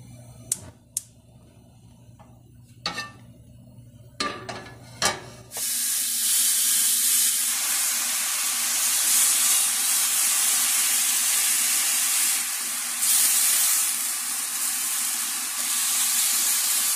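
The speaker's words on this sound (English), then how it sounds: "But first we're gonna fry the bacon." Bacon frying in a pan, a loud steady sizzle and hiss that starts suddenly after a few sharp clicks and taps and then continues alone.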